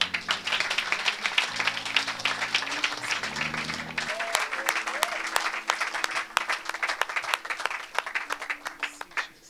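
Church congregation applauding and cheering during a deliverance service, dense steady clapping throughout with voices and shouts mixed in, a low musical drone underneath.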